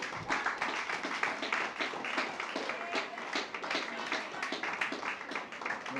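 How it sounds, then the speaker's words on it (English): An audience at a dedication ceremony gives a round of applause, with dense, steady clapping lasting throughout at moderate loudness. "So I want you to give them a round of applause"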